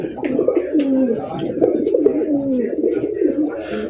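Fancy racer golla pigeons cooing in repeated soft, rolling calls, close and steady throughout, with faint chirps and background rustle alongside.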